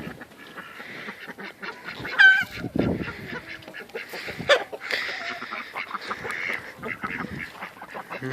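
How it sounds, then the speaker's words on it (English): Farm ducks quack and honk in a noisy, overlapping chorus, with loud nearby calls standing out among steady chatter from the flock. "the ducks"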